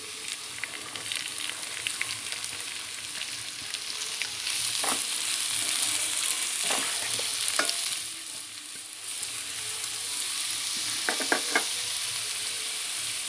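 Chopped onions frying in a pan for cauliflower masala, a continuous bright sizzle with occasional spoon scrapes and taps against the pan, close and steady, swelling slightly partway through, with no talk.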